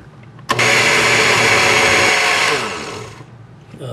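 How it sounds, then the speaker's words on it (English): A blender whirs loud and steady as it purees ginger and garlic, starting abruptly and running about two seconds before slowing and winding down, with a brief clatter at the end. "And I'm going to blend this down"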